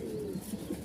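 Pet pigeons give a soft, brief, low coo nearby, a short throaty burble.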